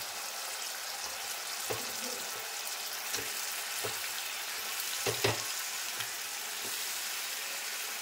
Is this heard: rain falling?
no